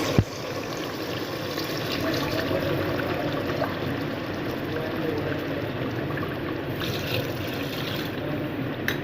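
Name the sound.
water being poured into a pot of cooking meat and tinda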